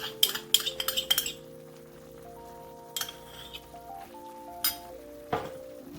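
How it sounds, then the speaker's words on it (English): Cornstarch slurry is mixed into a shrimp and broccoli stir-fry sauce in a pan. A quick burst of metal clinks and scrapes comes first, then a few sparse taps over soft background music. "And then really start to mix that up, and that's just gonna thicken our sauce nicely."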